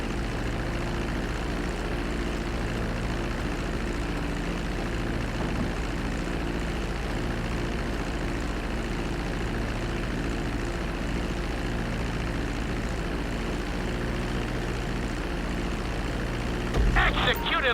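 Airplane in Grand Theft Auto V slowing after landing and taxiing along the runway, a steady broadband engine drone with low propeller hum lasting throughout, joined by a brief sharper burst near the end.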